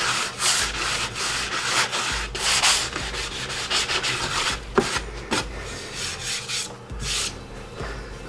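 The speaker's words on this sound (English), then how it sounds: "I sanded these all down to 120 with the orbital" An orbital sander rasps continuously across cabinet wood at 120 grit, with rhythmic surges and scratchy bursts, loud and close with no voices.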